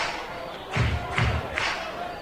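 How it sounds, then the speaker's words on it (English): A baseball crowd at a stadium during a 2006 Frontier League playoff game in Evansville swells in three rising waves of cheering and roaring, with dull thumps at each surge against a steady murmur. "you can hear this crowd ready to explode"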